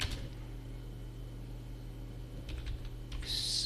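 Keys clatter on a computer keyboard as an accounting narration entry is typed, a quick run of close taps near the start, scattered clicks later and a brighter burst at the end, with a low hum behind.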